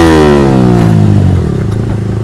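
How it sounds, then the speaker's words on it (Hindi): A motorcycle engine revs up close, its pitch sliding upward then settling into a throaty idle with some rattling. "इसको थोड़ा सा बाइक का साउंड सुनाते हैं।"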